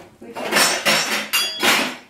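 Several quick metallic clanks and rattles as a lid is set down and settles on a small saucepan of cooking chicken, close and fairly loud.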